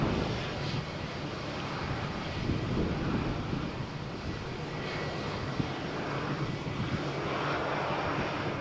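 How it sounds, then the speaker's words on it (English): A jet airliner's rolling takeoff on runway 13 at Malaga Airport on a stormy morning: a steady, broad engine roar holds at constant loudness throughout, with wind buffeting the microphone. "we get a rolling takeoff."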